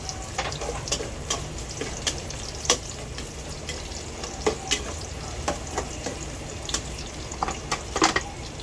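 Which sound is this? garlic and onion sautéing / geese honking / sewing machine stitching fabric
garlic and onion sautéing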